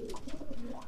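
A pigeon of the shooting-pigeon type coos softly up close, a low rolling run of murmured notes that hold steady.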